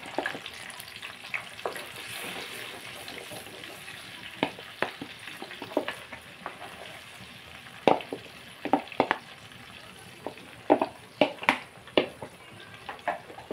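Ginger-onion paste and tomato paste frying in a pan for a sea-fish tamarind curry, a soft continuous sizzle with a run of sharp spoon scrapes and taps that grow louder and more frequent toward the end, no talking.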